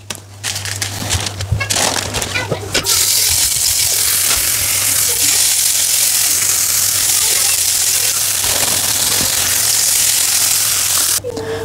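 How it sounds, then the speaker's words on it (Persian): Chicken nuggets sizzle steadily in a pan with a little oil, a loud continuous frying hiss running nearly the whole time, with a few clattering touches near the start. "چیکن نگتس را کاملا سرخ کردیم"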